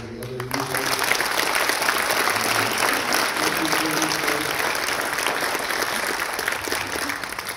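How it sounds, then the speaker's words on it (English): An audience at the Santa Fe Indian Market 2021 Best of Show presentation claps for the youth artists, with dense, sustained applause that starts abruptly and keeps an even level throughout. "So a round of applause for the other youth artists."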